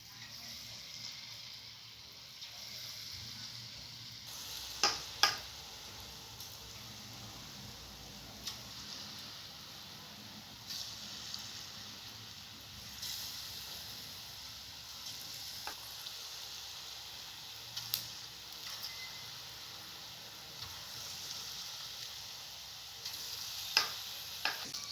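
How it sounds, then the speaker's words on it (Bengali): Palm fritters (taler bora) fry in hot oil with a steady, soft sizzling hiss and occasional faint pops and utensil ticks, heard close and alone. "তেল গরম হয়ে গেছে, আমি বড়াগুলোকে ভেজে নেব।"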